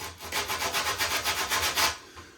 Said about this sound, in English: With that one, I'm going to use some sandpaper. And I'm just going to take off the corner.